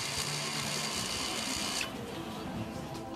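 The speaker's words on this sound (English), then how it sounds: "The parking brake motors will now operate." Electro-mechanical rear parking brake motors running during a service procedure, a steady whirring mechanical hum that continues for about two seconds and then stops, leaving quieter background noise.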